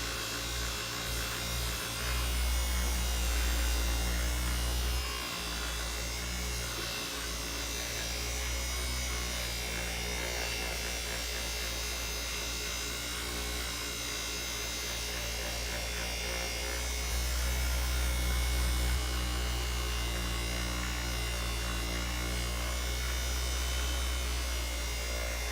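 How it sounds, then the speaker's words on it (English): Electric polisher buffing the painted body of a Stratocaster guitar, a steady close motor whir and hum running unbroken throughout with slight swells in pressure, no talking. "let's start polishing, see what happens here. Try to let the polisher do the work."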